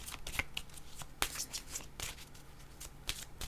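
Tarot cards are shuffled close by, a series of crisp riffling bursts and soft slaps in an irregular rhythm, heard alone without speech.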